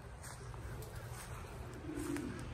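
Racing pigeons coo softly outdoors after a road training flight, low murmuring coos that run under a steady background hiss, with a slightly louder coo near the end.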